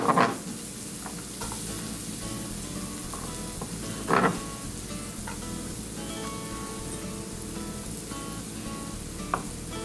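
Onions fry in a hot pan with a steady, close sizzle throughout, broken by a few louder crackles and stirring clatters near the start and middle.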